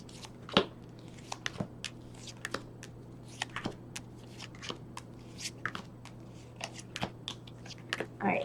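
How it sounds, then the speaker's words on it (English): Repeated crisp tarot card shuffles, short riffling bursts spaced irregularly with soft faint murmuring in the background. "one more good shuffle"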